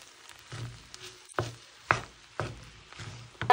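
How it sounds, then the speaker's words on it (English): Two eggs stirred in a hot cooking pan give a series of short scraping clicks about every half second, with a faint sizzle underneath. "I just put my 2 eggs there, and then I'm going to stir it now."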